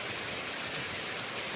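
Heavy rain driven by strong wind, a dense, steady hiss of downpour filling the whole short stretch with no pauses, loud and close, with no talk over it.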